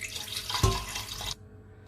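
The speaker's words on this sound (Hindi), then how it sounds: "साथ इसमें थोड़ा पानी ऐड करेंगे।" Water poured into a pressure cooker holding meat for chana dal gosht on a high-flame stove, a short splashing gush of about a second that cuts off abruptly.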